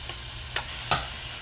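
Ground beef for tacos frying in a pan on medium heat, with a faint steady sizzle and two quick scraping strokes of a spoon stirring it, alone and quiet.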